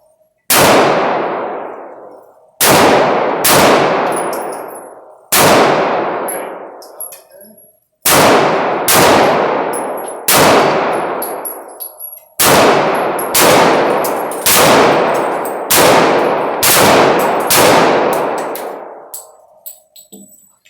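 A Glock pistol fires five rounds at an indoor match. Each sharp, loud report rings out alone and echoes off the range walls, in separate strings of shots with pauses between them.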